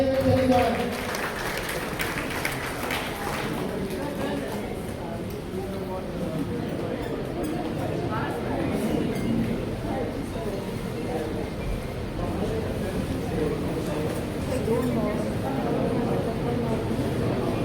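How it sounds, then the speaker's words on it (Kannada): An audience at a Rotary Club installation ceremony in Kanakapura applauds in sustained, dense clapping that fills the room, with voices mixed in. "ಇವರಿಗೆ ಚಪ್ಪಾಳೆ ಮೂಲಕ ಅಭಿನಂದನೆ ಸಲ್ಲಿಸೋಣ."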